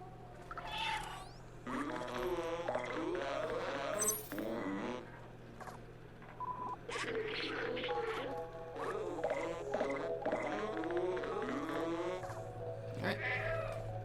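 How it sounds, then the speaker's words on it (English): Repeated cat meows, some drawn-out and whiny, from the video game Stray, over a steady low electronic hum, with a few short clicky effects between them. "we can distract Momo from his grumpiness by meowing at him"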